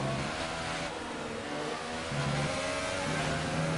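A Formula 1 car in the F1 2018 video game, running with no downforce and worn tyres, gives a sustained high engine whine that rises in pitch as it revs.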